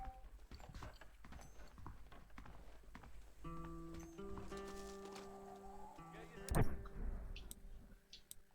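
Horse hooves clip-clop in Red Dead Redemption, a war horse plodding at a slow rhythm, with game music tones, a sharp hit and a brief snort or whinny.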